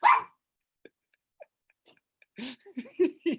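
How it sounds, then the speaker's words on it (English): A pet dog lets out a sharp close bark, then a few faint scattered yips and whimpers over near silence, ending in a burst of several quick barks and whining yelps. "Oh, I love that dog."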